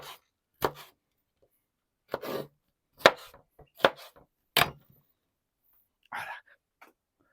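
A knife chops red bell pepper on a board for Uzbek-style dimlama, about five sharp, separate knocks spaced unevenly and close by, with a short softer sound near the end and no talking.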